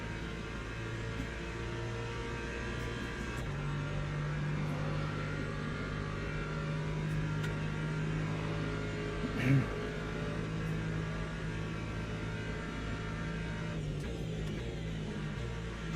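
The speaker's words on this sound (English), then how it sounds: "Alright, hypercars come in." Hypercar engines racing in the Le Mans Ultimate video game, a steady droning engine note with a sustained tone, faint and continuous throughout.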